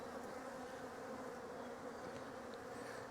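Honey bees swarm thickly around hive frames during a split, a dense, steady close-up hum of many wings with no talking.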